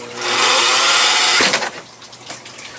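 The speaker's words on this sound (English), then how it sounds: "When you're drilling through these plastics with a hole saw" A hole saw bites through a plastic ice fishing sled in one loud, harsh grinding burst lasting about a second, then cuts off, leaving quieter handling noise.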